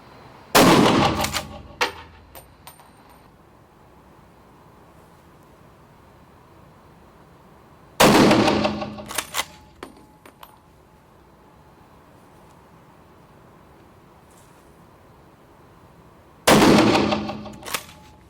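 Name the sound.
gunshots at an indoor hunting shooting cinema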